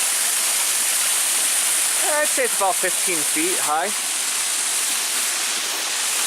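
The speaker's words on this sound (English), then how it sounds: "Got a neat little waterfall here." A small waterfall about 15 feet high on a hiking trail in Harriman State Park, heard as a steady, full rushing hiss of falling water throughout, with someone speaking briefly over it partway through.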